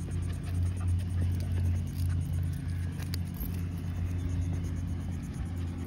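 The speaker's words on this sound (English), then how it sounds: "The cars pass by." Road traffic drives past nearby while a dog is led on a leash, giving a steady low engine rumble and tire noise that swells and eases without a break.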